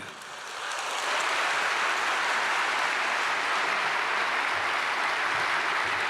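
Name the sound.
congregation applause welcoming speaker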